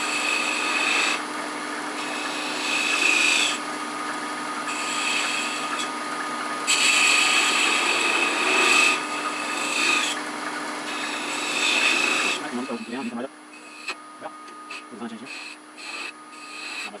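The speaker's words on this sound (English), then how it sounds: "Come in here with this small 1/4 inch detail gouge that allows me to go fairly deep." Wood turning on a lathe, a small quarter-inch detail gouge cutting into a globe ornament, giving a steady close scraping rasp in long passes that stops near the end, leaving a few light knocks.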